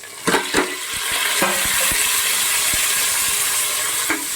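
Onions and ginger-garlic paste frying in a pan, a steady broad sizzle with a few sharp spoon clinks and scrapes of stirring near the start, then a continuous hiss.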